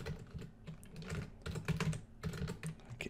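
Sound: typing on a computer keyboard

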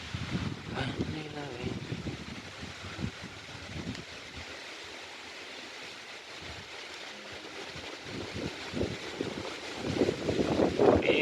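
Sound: strong wind blowing

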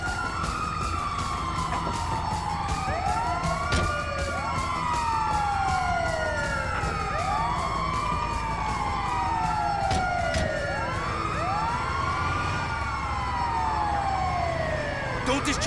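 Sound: ambulance siren in Grand Theft Auto V video game

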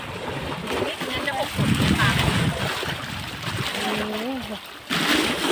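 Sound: fish splashing in water as they are fed

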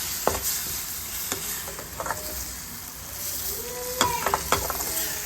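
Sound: sautéing squid with spice powders in a pan

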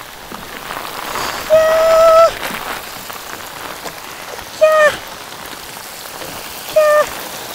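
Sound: heavy passing rain shower at a fish farm

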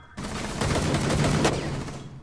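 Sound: gunfire in a shooter video game

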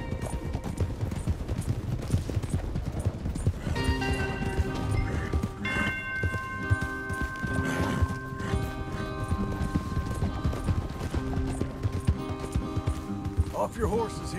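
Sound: horses galloping in a video game

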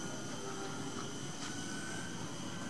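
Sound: twin-propeller balsa model airplane flying

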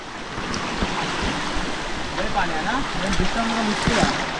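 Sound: water flowing in a stream

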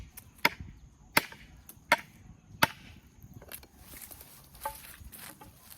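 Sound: hand-forged plough-steel knife chopping wood

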